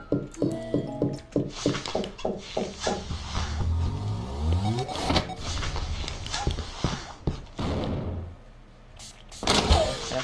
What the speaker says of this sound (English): And if I don't know, I can just close both doors.